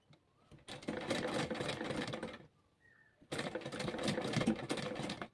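A sewing machine stitches a quarter-inch seam on a kurti in two steady runs of rapid mechanical whirring, separated by a short pause, close and fairly quiet.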